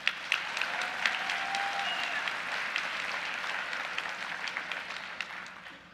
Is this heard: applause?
yes